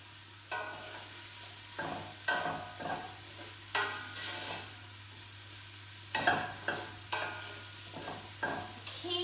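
Onions softening in a pan for a simple chilli are stirred in repeated scraping strokes over a steady low sizzle and a constant electrical hum, close and moderately loud, with no one talking.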